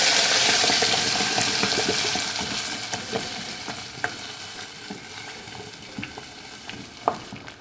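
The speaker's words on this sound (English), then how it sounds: "Next step is we got to fry this sauce." Mole sauce frying in hot oil in a pan over medium heat, a steady loud sizzle that slowly eases, with occasional clicks of stirring.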